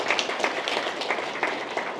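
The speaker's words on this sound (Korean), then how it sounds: "박수 한번 쳐드리셔야 됩니다" Applause from an audience at a Korean political party lecture, a moderately loud patter of many clapping hands heard briefly and steadily.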